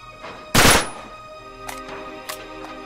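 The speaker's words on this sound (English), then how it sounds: "Back up, I'll shoot the lock." One sharp, loud gunshot rings out as a lock is shot open in the Uncharted action game, followed by a short decaying tail and a few faint clicks and knocks.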